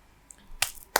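Two sharp, close hand claps, spaced about a third of a second apart, in an otherwise quiet room.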